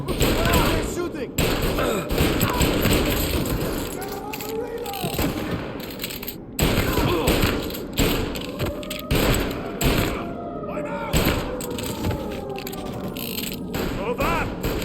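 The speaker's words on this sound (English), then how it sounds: "They're shooting!" Gunfire in Mafia Definitive Edition on PS5: repeated loud shots and bursts with thumping impacts fill the scene, mixed with shouting voices throughout.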